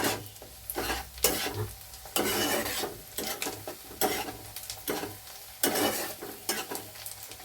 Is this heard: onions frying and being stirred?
yes